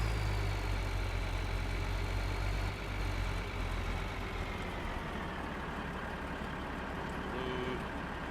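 In Farming Simulator 2013, a tractor engine idles with a steady, low rumbling drone that runs unbroken and fairly loud throughout.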